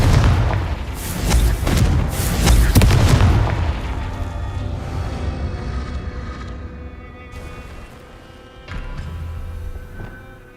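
In Hogwarts Legacy, a Confringo spell sets off a loud, booming fiery explosion with rumbling bursts that roll and decay into a lingering echo, followed by a softer swell near the end.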